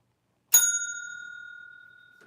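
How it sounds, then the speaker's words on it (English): A single bright bell strikes once during a trivia game to mark time up, its clear metallic ring decaying slowly over about two seconds in an otherwise silent room. "nobody got it before the bell"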